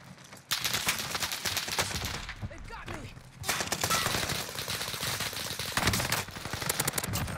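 Dense, continuous automatic gunfire from Call of Duty: Warzone rattles almost nonstop, with a brief lull mid-way before bursts resume loudly, while players talk over the shooting.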